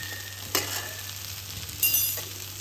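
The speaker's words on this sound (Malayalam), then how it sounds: "എല്ലാം കൂടി നല്ലോണം മിക്സ് ചെയ്തിട്ടൊന്ന് ചെറുതായിട്ടൊന്ന് വാട്ടിയെടുക്കാം" Onion and spices sauté in a pan with a constant low sizzle, interrupted by a couple of brief scrapes and clinks as a spoon mixes them; close and fairly quiet, with no voices.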